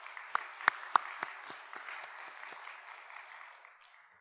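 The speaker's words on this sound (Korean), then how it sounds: "우리 먼저 하나님께 영광의 박수 올려드리겠습니다" Church congregation applauding, starting with a few sharp separate claps and settling into a short, soft patter of clapping that fades out in a reverberant hall.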